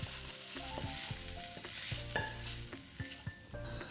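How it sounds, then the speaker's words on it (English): Minced garlic and ginger sizzle steadily in hot oil under a continuous frying hiss with occasional stirring scrapes, while a soft melodic music bed with plucked notes plays alongside. "Sizzle minced garlic and ginger in oil"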